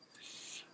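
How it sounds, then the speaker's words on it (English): Crickets chirp outdoors at night in a brief, faint high-pitched trill that swells and fades within a moment, heard alone. "crickets are out tonight."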